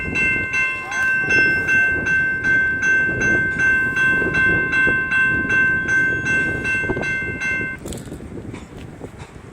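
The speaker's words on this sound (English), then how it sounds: "That looks like a fairly new locomotive there." A CSX locomotive switching freight cars on a track in Gary rolls past with a steady rhythmic clatter of wheels over rail joints, sustained high metallic tonal squeal throughout, nearby and loud, easing off near the end.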